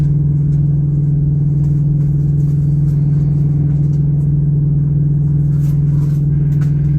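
Truck engine idling at a stop, a steady, loud low rumble with a constant drone that runs unbroken throughout, close to the cab.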